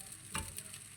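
Sinangag, Filipino garlic fried rice, sizzles faintly and steadily in a pan, with one brief louder stir or scrape partway through and no voices.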